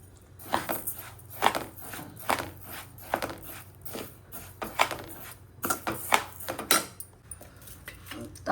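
Rice is dry-roasted and stirred in a kadhai, giving repeated light metallic scrapes and rattling grains in an uneven rhythm, close and fairly quiet.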